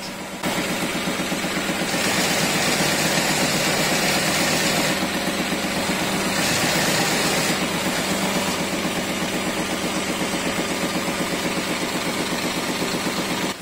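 A Cornely hemstitch sewing machine stitches household linen with fine Aurifil 80-weight cotton thread, giving a steady, close mechanical whir with fast rhythmic clatter that runs unbroken throughout, with no voices.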